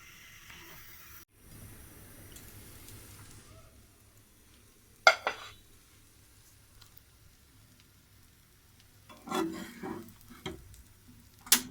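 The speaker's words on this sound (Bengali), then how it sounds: "পেঁয়াজ মরিচ দিয়ে ডিম ভাজা।" Eggs fry with onion and chili in a pan, a soft sizzle under sharp spatula scrapes and clinks on the pan, stirring in short bursts.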